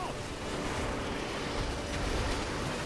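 Ocean waves wash and surge in the Modern Warfare 3 video game, a steady broadband rush of surf and wind heard while following a Zodiac boat, with no voices over it.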